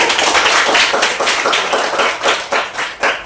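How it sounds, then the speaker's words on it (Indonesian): A church gathering claps together: close, loud, fairly rhythmic handclaps that loosen toward the end, with no speech over them. "Ya, tepuk tangan dulu."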